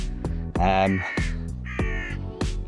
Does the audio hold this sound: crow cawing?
yes